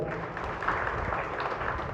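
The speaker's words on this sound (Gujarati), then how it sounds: "આ બધા લાગેલા સેવકોને જોરદાર તાળીઓથી વધાવજો." An audience at a Ramji temple's Diwali Annakut gathering claps for the temple volunteers, a steady, even wash of applause held at moderate loudness throughout.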